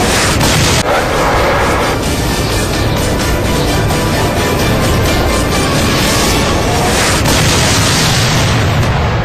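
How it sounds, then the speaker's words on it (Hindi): A missile strike explosion comes through as a loud, sustained roaring boom that fills the whole clip, with a rumbling low end and a sharp blast edge near the start. "बिजली की रफ्तार से आसमान से मिसाइल छूटती है और अगले ही पल टारगेट स्वाहा।"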